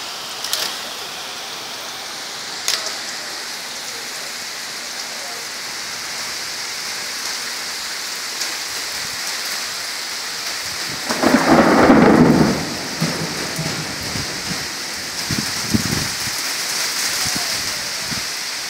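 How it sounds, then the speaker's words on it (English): Rain falls steadily during a thunderstorm, a constant hiss, with a loud rumble of thunder swelling near the middle and fading into scattered crackles. "Here comes the rain."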